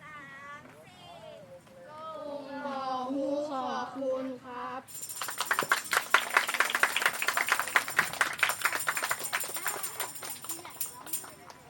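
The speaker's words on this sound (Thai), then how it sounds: "ขอเสียงปรบมือดังๆ ให้เด็กๆอีกสักครั้งได้ไหมคะ" An audience applauds children at a Christmas school activity, bursting into loud, sustained clapping after a few seconds of singing voices. The rapid, crisp claps continue steadily to the end.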